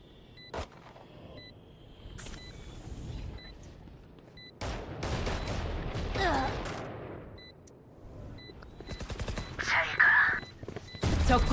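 Gunfire in a shooter video game, with scattered shots early on, then louder rapid bursts of automatic fire in the middle and at the end, mixed with beeps and other game effects.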